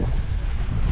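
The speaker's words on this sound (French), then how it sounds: "Le vent se levait." Wind roars across a microphone aboard a sailboat reaching across a 14–15 knot breeze, a loud, steady low rumble mixed with wave wash and no voices.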